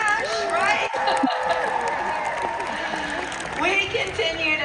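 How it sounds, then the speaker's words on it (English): An audience at a business event claps and cheers in a dense, continuous burst. Voices whoop and call out over the clapping. "how about a big round of applause for us?"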